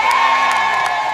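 A market crowd cheers in a narrated scene, a loud, continuous wash of excited squeals and shouts with a few brief claps or pops breaking through.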